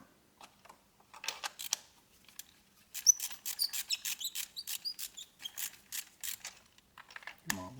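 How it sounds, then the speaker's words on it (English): A ratchet with a 5/8 socket works loose engine spark plugs, giving faint, close clicking in quick irregular runs with brief pauses, ending in a low thud. "Now I have a 5/8 socket on a ratchet, and we're gonna pull these plugs out"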